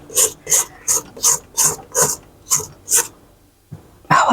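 Rhythmic scraping around the sides of a mixing bowl of hot milk cake batter, about eight evenly spaced rasping strokes, close and fairly loud, followed by a brief pause and a louder clatter.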